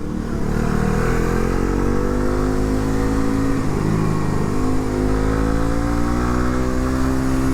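A Suzuki GSX-S150 motorcycle with a stock engine is ridden along a road, its engine droning loud, steady and close, with a smooth, continuous tone and no gaps.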